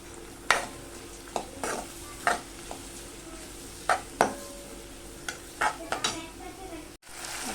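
A medium onion and tomato are sautéed in a pan, a spatula scraping and tapping in irregular strokes over a soft sizzle, with no one speaking.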